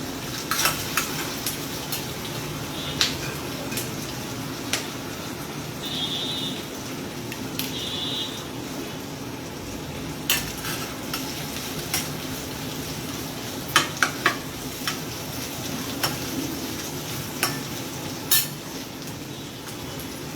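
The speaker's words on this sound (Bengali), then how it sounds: "এবার পেঁয়াজটা এদিকে ভাজবো, নাড়িয়ে দেব" Onion sizzles steadily in a pan over a high gas flame, with a spatula scraping and clinking against the metal at intervals.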